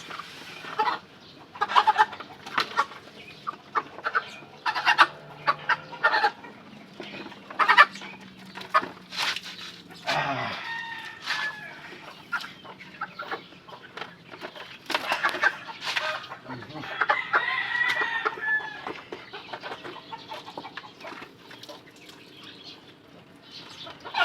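A black hen clucks repeatedly up close among other chickens and roosters in a backyard flock, with irregular short calls and scattered bird noises over a steady background.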